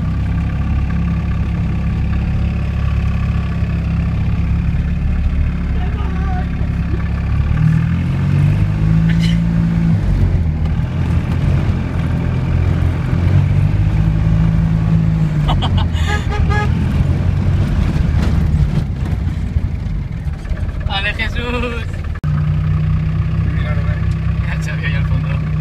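Car engine idling and revving in a deserted spot before doing donuts, heard from inside the car: a steady engine drone with repeated revs, under people talking.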